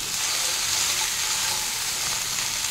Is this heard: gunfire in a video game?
no